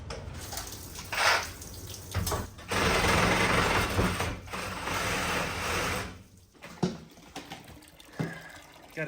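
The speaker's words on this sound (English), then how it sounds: "Got to drain the hot water heater." Water draining from a hot water heater at a micro homestead, a steady rushing flow with mechanical clanks and ratcheting noises from handling the valve and hose, loud and continuous with brief pauses.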